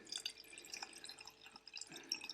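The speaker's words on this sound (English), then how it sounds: "you've got your jar of rusty things, and you just put some vinegar in it" Vinegar trickles into a jar of rusty metal bits, heard as faint, scattered drips and small liquid splashes that stay quiet and close throughout.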